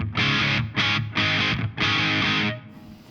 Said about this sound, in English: Let's get some more reverb in there.